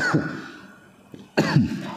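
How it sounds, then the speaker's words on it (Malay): Two harsh coughs close to the mic, separated by a short pause. "minta maaf batuk ya"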